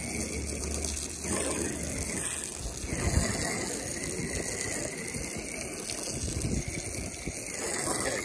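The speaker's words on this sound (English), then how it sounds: "we've let it sit, we're gonna rinse it off." Water rinses toilet bowl cleaner off an RV's exterior surface, a steady hissing spray running close and loud for the whole stretch with a rattling, mechanical edge and no talk.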